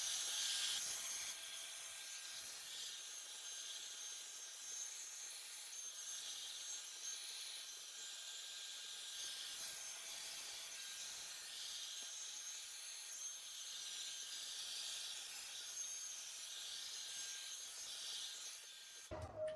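A hair dryer set to hot, high heat blows a steady, even hiss of air for nearly twenty seconds, then cuts off abruptly at the end.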